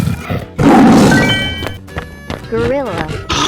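A cartoon tiger lets out a loud, rough roar lasting about a second, surrounded by brief bursts of other cartoon sound effects and a warbling, swooping tone near the end.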